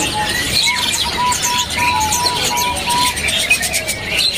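Caged zebra doves (perkutut) at the Pramuka bird market give repeated short whistled coos over a busy, hissing market din, with other bird chirps close by.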